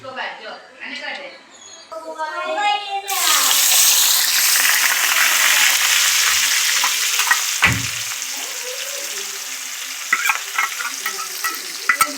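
Paneer for palak paneer hits a hot pan and breaks into loud, steady sizzling frying after a few seconds of quieter sounds, with occasional utensil clinks and stirring, close to the listener.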